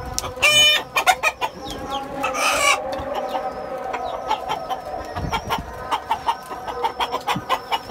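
Chickens cluck repeatedly on a rooftop garden while a rooster sounds off, with short rhythmic clucks close by, a louder call early on and steady bird chatter throughout.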